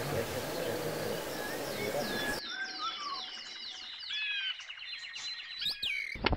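Small birds chirp rapidly and repeatedly at a bird-ringing session, a dense run of sharp, high tweets after a stretch of broadband noise, fairly close and clear.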